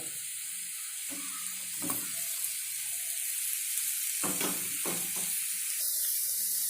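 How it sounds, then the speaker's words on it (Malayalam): Fried fish pieces stirred into onion masala in a pan, a steady bright sizzle with a few scraping stirs and clinks of the spoon against the pan, close and continuous, with no voices. "മീൻ ചേർത്ത് കൊടുത്ത് നന്നായിട്ട് ഇളക്കി കൊടുക്കുക"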